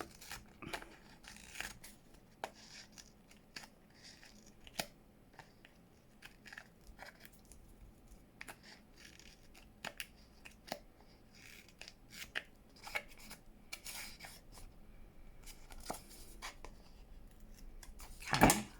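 Repeated sharp snips of scissors and crisp cutting sounds through paper, irregularly spaced, close by, with faint rustling of paper between cuts.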